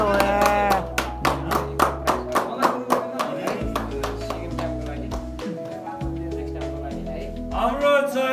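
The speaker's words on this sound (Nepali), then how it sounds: "ताली बजाउनु न सबले" A crowd claps for the winner of an intra-club snooker tournament in Pokhara, with brisk, evenly spaced claps over background music and voices.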